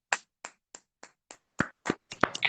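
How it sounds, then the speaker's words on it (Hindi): Claps from participants unmuted in an online meeting, a sparse run of distinct single hand claps, evenly spaced at first, then closer together and overlapping into a quiet ragged patter. "सभी लोग अपने माइक को अनम्यूट करके तालियों के साथ"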